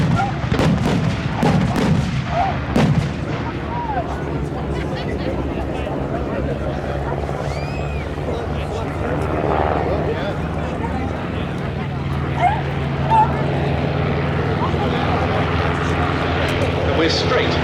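WWI replica Sopwith and Fokker triplanes in a dogfight at an airshow, propeller engines droning steadily with sharp bangs of simulated gunfire early on, under a commentator's continuous talk.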